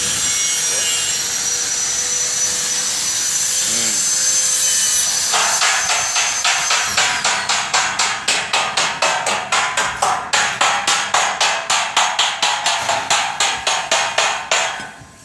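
Grinding on a large hot-water pipe during a giant pipe installation: a steady harsh abrasive whine that shifts into a fast series of rhythmic rasping strokes, loud and close, with no talk.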